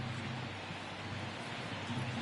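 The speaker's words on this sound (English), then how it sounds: "I don't know how much more rain this field can take" Rain falls on a baseball field in a PS4 baseball game, a steady, even hiss of downpour with no breaks, fairly faint and continuous.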